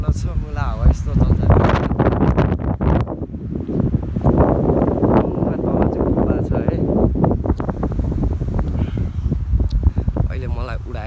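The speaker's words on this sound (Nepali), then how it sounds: "मुला हावा यस्तो चल्छ" Strong wind buffets the microphone on the hilltop at Makwanpur Gadhi, a loud, continuous roar and rumble with gusty swells, while people talk over it throughout.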